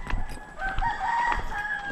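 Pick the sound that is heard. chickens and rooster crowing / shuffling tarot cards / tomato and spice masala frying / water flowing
chickens and rooster crowing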